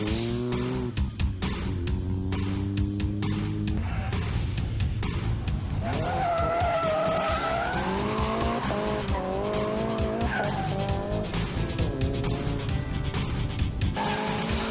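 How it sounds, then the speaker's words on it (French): Tires squeal and skid continuously as a turbocharged car of over 200 horsepower drifts, the engine revving and wailing in rising and falling pitches, loud and sustained throughout. "Son moteur turbo et plus de 200 chevaux pour réaliser de superbes glissades."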